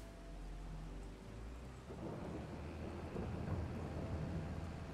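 Rain pours steadily in Farming Simulator 22 as a low rumble of thunder rolls underneath, the downpour swelling denser and louder midway through, with no voices.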